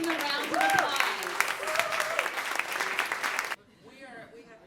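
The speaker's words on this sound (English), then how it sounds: "Let's give them a round of applause." An audience applauds Roz Chast and Patricia Marx as they come out for their presentation, with steady clapping and cheering under overlapping voices for about three and a half seconds before the clapping cuts off and quieter talk remains.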